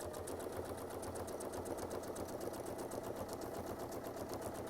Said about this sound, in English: So let's go ahead and we'll sew one circle.